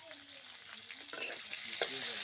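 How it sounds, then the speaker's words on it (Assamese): Onions fry in the same oil just used for frying fish, a soft sizzle with light stirring scrapes, quiet and close, gradually building a little in intensity. "পিঁয়াজখিনি এনেকৈ আমি খুব সুন্দৰকৈ ৰঙচুৱাকৈ ভাজি ল'লোঁ"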